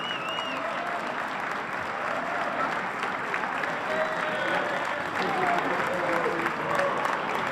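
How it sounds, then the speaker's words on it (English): A crowd applauds Wall of Fame members standing during a university induction ceremony in a gym court area. The dense, steady clapping fills the full seven seconds, swelling slightly near the end, with some voices scattered through it. "we'd like to ask all current Wall of Fame members in attendance today to stand and receive a round of applause"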